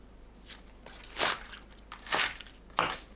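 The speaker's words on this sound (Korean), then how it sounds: "파는 길게 썰어줍니다." A knife slices green onion lengthwise on a cutting board while aromatics are prepped for Andong-style braised chicken, giving four crisp, crunchy cuts, close and evenly spaced, with no talking.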